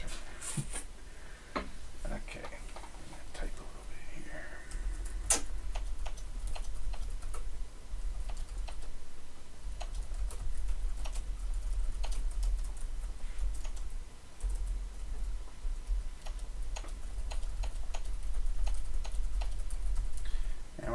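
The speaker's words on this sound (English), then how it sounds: "I'm gonna type a little bit here." Keyboard keys tapping in irregular bursts during a live coding session, close and moderately loud over a low steady hum, with a voice speaking at times.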